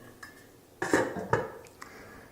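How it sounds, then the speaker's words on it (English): A plastic lid set back onto a wine-making container of Zinfandel juice gives a few close clunks and rattles, with one quick light tap trailing after them, and no voices. "Put the lid back on."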